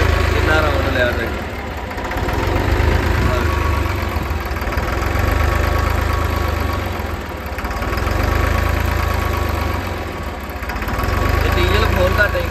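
A New Holland 3630 tractor's diesel engine with a modified fuel pump runs steadily nearby, a loud continuous low rumble that swells and dips in slow cycles of a few seconds.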